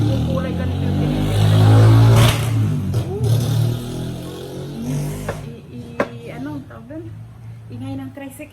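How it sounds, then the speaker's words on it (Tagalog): A motor tricycle passes close by, its engine swelling to a loud, rough revving clatter and then fading away, with people talking over and after it. "Ingay ng tricycle"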